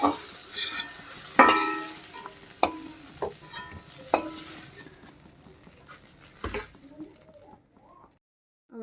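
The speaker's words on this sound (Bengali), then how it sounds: "দেখো বন্ধুরা সিমটাও ভাজা হয়ে গেছে আমি তুলে নিচ্ছি সিমগুলোকে" Flat beans fried in oil are stirred and scooped out of the pan, giving loud scraping, clattering utensil knocks over a soft sizzle that thins out and drops to silence near the end.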